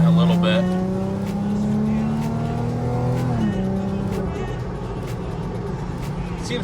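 A supercharged Lexus IS 350 accelerates, its engine note climbing steadily in pitch from inside the car before a brief shift, then droning on under light speech.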